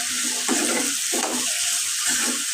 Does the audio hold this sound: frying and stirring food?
yes